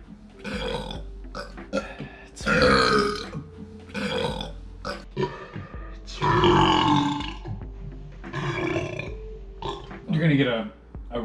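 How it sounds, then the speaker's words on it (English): Long, throaty burps erupt repeatedly amid bursts of loud, laughing chatter, several deep belches standing out over the voices. "That was a can burp."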